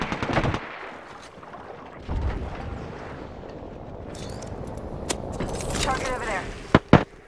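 Gunfire in Apex Legends, a mix of rattling automatic bursts and sharp single shots, moderately loud with a couple of crisp cracks near the end, while a voice talks over the action.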